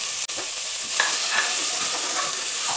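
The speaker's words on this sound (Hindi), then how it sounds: "इसमें गोभी डालेंगे, आलू, बीन और 1 गाजर, सभी को हम इसमें" Cauliflower, potato, beans and carrot stirred and sizzling in a hot frying pan, with steady frying hiss and scraping stirs close up, one brief sharp knock near the start.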